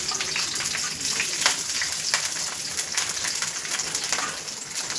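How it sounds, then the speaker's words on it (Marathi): Green chilies and garlic fry in a hot pan, giving a steady, close crackling sizzle with scattered sharp pops throughout, and no talking. "मिरची लसूण भाजून घ्या मिरची टाकायचं आणि हळू टाकायचं. लसूण पण टाक. परतून घ्या."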